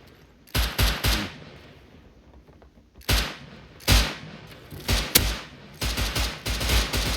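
Gunfire in the survival game Rust comes in loud, rapid bursts separated by short pauses, each volley a sharp crackle of many close shots, with no talking.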